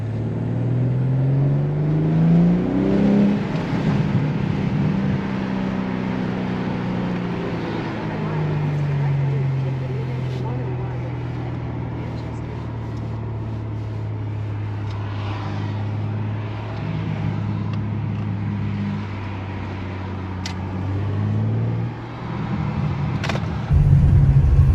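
A 2022 BMW M3 Competition engine pulls through the revs from inside the car, a deep drone rising in pitch as it comes into boost, easing off, then climbing again, with a sharp louder surge at the end.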